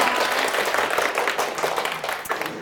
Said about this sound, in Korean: 아무리 박수를 치셔도